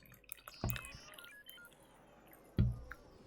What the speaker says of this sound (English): I have to pour my coffee.